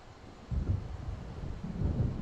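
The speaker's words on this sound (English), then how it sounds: "It seems there's a storm coming." Low rumbling thunder from an approaching storm in the video game Alan Wake, rolling in two swells over a faint windy background with no voices.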